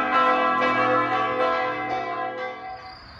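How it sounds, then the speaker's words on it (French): Loud church bells ring near Bled, Slovenia, with several resonant strikes overlapping in a rich, lingering peal that slowly fades, heard close and alone. "nous sommes accueillis par des cloches tonitruantes et nous aurons droit à ce concert tous les soirs"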